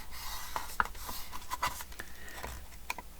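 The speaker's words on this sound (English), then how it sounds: "So now I'm going to do the inside scoring" Scoring paper for a one-sheet craft project, a scoring tool drawn along the sheet at quarter-inch marks: short soft scratchy strokes and light taps, close and quiet, with no talk.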